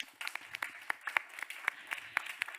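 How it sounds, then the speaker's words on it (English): A live audience at an ocean conservation event in Monaco gives the organizers a round of applause. The clapping is moderately distant and fairly sparse, with distinct irregular claps in a loose patter and no voices. "I think we can give the organizers a big round of applause."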